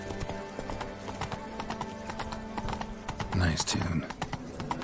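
A horse's hooves clip-clop in a steady galloping rhythm in the video game Witcher 3: Blood and Wine, with a brief whinny near the end, while a voice speaks over the hoofbeats.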